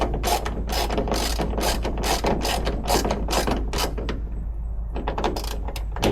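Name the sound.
ratchet tightening carbon fiber hood bolts on Cadillac CT5-V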